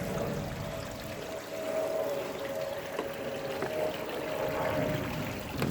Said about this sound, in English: Turn these bubbles off